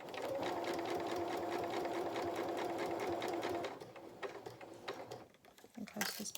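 A home sewing machine stitches the body seams of a fabric otter toy with a steady rapid whirring chatter for several seconds, then slows and stops amid faint handling clicks; a voice speaks quietly at moments.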